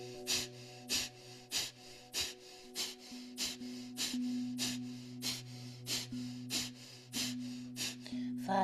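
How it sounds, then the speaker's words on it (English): Rapid Kapalabhati yoga breathing: a steady train of about fifteen sharp, forceful nasal exhales at a quick even rhythm, close and clear over a low sustained background hum, with no talking. "And Kapalabhati breath here."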